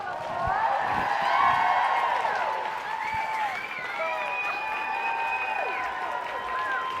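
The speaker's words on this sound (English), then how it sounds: "But can we just please give Mary a huge round of applause?" A crowd breaks into sustained applause, with whoops and cheers rising over the clapping for several seconds.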